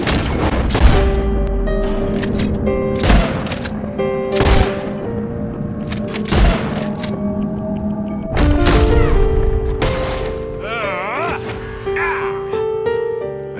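Sharp gunshots ring out in quick, irregular bursts during a bottle-shooting contest in Red Dead Redemption 2, several close, loud cracks with a few clustered volleys over a steady tonal music bed.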